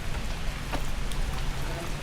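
Rain falling at a lakeside campsite in Cavinti, Laguna, a dense, constant hiss of drops hitting surfaces, close and steady throughout.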